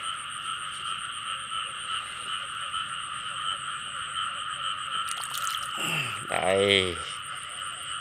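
A plump frog croaks loudly once in a newly flooded rice field at night, over a steady drone of insects and hum. A person says a single word shortly before the croak.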